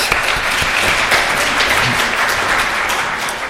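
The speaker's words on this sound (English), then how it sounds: "A small round of applause for Dr. Jacob George." A lecture-hall audience at a medical grand rounds gives a steady round of applause for a speaker, dense, even clapping that carries on for several seconds without talk.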